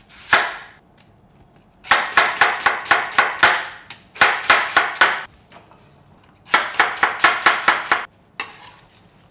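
A knife chops an onion on a cutting board in quick bursts of sharp, evenly spaced knocks separated by short pauses, close and loud with no talking.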